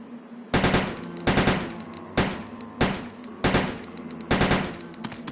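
Pistol firing three-round bursts in Resident Evil Code Veronica X, six loud sharp bursts spaced roughly evenly over several seconds, each a rapid cluster of shots with ringing tails, no talking.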